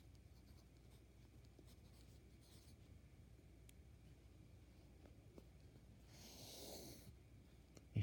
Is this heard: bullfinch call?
no